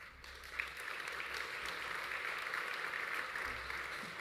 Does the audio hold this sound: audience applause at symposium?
yes